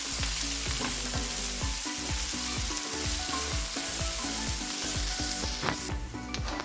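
Capsicum and rice mixture for chitranna frying in a pan, with a continuous sizzle under rapid, rhythmic scraping and tapping of a spoon against the pan as it is mixed, close and without speech.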